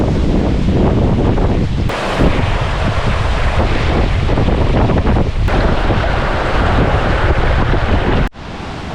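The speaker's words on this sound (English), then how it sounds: "You know it's windy when you got whitecaps on a lake" Strong gusting wind roars steadily and loudly across a whitecapped lake in the Maine wilderness, buffeting the microphone without a break and dipping only briefly near the end.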